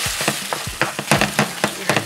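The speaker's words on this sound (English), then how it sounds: "I'm going to add them directly to the skillet." Cracked eggs fry in a skillet with leftover potato hash, giving a loud close sizzle broken by rhythmic scraping and stirring strokes about every quarter second.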